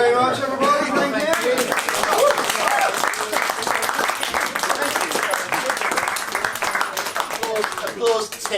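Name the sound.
audience applause at live show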